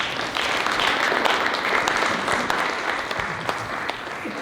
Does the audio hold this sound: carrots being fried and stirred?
no